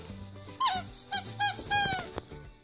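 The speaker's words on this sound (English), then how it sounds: "It's a squeaky Christmas tree chew, chew toy." A squeaky Christmas-tree-shaped dog chew toy squeaks several times in quick, loud bursts, with rising-then-falling chirping squeals and a few gaps between squeezes.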